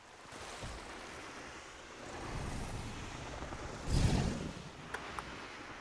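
Rapids in the video game The Isle give a broad, steady rushing wash that swells louder partway through, with a couple of faint ticks near the end and no voices.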